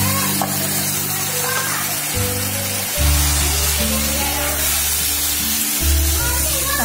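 Dried shrimp (sukat) sizzles steadily in a hot pan for a Malvani-style dish, a continuous loud hiss that runs under a low background hum throughout.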